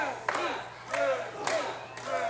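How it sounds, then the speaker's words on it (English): Wrestling crowd at an OVW TV match, a live arena audience cheering and shouting in repeated loud swells, with a commentator talking over the noise. "This crowd doesn't seem to be behind Venganza."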